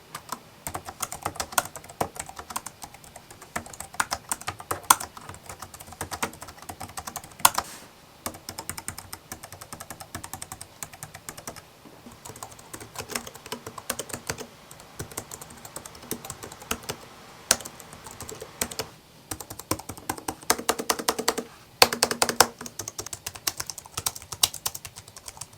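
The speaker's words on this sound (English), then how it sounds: "how noisy is the keyboard?" Steady typing on a Logitech ERGO K860 keyboard: a dense run of soft, quick key clicks and taps, close and continuous, with brief pauses and a few heavier bursts.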